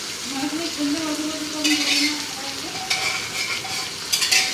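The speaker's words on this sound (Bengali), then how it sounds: "হালকা হালকা মশলা দিয়ে মাংসটা রান্না হবে" Mutton fries in a pan with coriander and cumin powder, a steady sizzle with a few clinks of a stirring utensil against the metal, close by.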